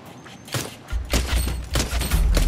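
Pistol fire in a video game: a quick series of sharp, close shots with deep thumping low end, landing in rapid succession over a short stretch.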